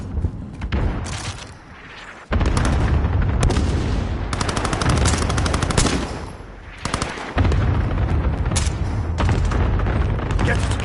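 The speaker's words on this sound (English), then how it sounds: "cluster strike incoming. Take cover." Cluster strike in Call of Duty: Modern Warfare, with a rapid string of loud, booming explosions that break in abruptly and pound on, mixed with machine-gun fire and brief lulls.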